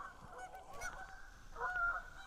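A flock of geese honks overhead while flying past, a steady chorus of calls that swells louder near the end, heard outdoors during a fishing outing.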